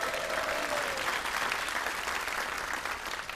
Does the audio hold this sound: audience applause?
yes